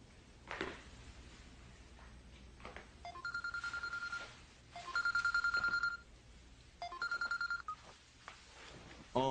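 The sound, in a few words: telephone ringing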